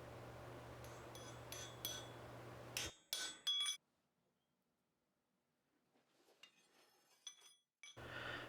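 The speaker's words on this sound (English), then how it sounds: "this is a square face chisel, so I'm just driving it right through the work, right down to the anvil" A blacksmith drives a square-faced chisel through hot steel down to the anvil, producing a series of sharp, ringing hammer strikes with metallic clinks, then a quiet pause and a few softer taps.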